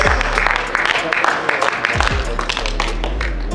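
Audience applause at an event at the JW Marriott in Mumbai, a burst of clapping from a crowd in a hall, partly under loud talk over a microphone.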